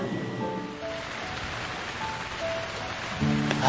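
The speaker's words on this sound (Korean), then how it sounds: "갑자기 비가 오네." Sudden rain pours down in a steady, dense hiss of falling drops that fills the scene at close range, swelling slightly louder near the end, with no voices over it.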